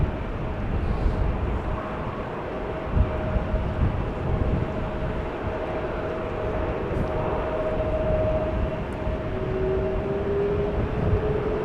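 A Suparna Airlines Boeing 747-400 lines up and takes off from runway 24 at Amsterdam Schiphol, heard as a steady, distant broadband jet roar that holds for the whole stretch with no voices.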